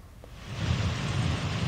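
Cyclone Biparjoy storm in Sheopur: steady rain with strong wind roaring low and building in loudness, a dense continuous wash with no voices.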